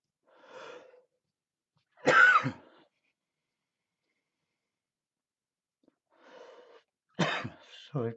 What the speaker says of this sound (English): Sorry, coughing away